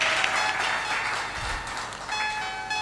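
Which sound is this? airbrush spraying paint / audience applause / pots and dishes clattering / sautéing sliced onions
audience applause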